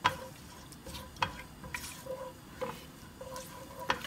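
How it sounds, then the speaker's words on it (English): Curry leaves frying in hot oil in a pan give a soft steady sizzle, with light crackles and stirring knocks now and then, close and fairly quiet. "I'm going to add my curry leaves in here and I'm just gonna wait for that to cook up just a little bit"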